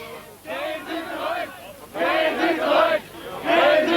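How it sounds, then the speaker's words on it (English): A crowd of several thousand tries to break in outside the Parliament building during Gorbachev's visit to East Germany in 1989, a roaring, chanting mass surging in three loud waves. "a crowd several thousand strong tried to break in on Mr. Gorbachev's final engagement inside the Parliament building"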